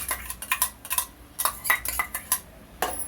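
A spoon stirs tomato paste into a pot of chicken gravy curry on the stove, giving repeated scraping clinks of metal on the pan in an irregular rhythm, close and moderately loud with no talk.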